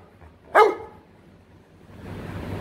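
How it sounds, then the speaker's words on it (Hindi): A Labrador dog lets out a single sharp, close bark at home, followed by a quiet stretch and then a steady rustling hiss, with no voices. "ये कौन भोंक रहा है?"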